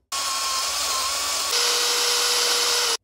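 A cordless screwdriver spins an anchor rod into a chemical anchor cartridge inside a drilled hole, giving a steady close whine for about three seconds whose pitch shifts midway, starting and stopping sharply, with no speech.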